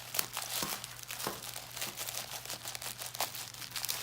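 Bubble wrap inside an opened package crinkles and crackles continuously up close, a dense, busy rustle with small sharper pops and no voices.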